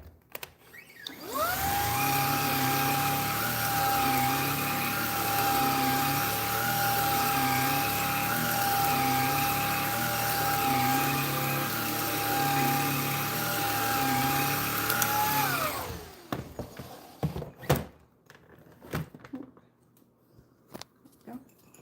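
Household vacuum cleaner switched on near Bernedoodle puppies, a loud steady whine and roar that runs for about fifteen seconds and then cuts off, followed by scattered clicks and small handling noises.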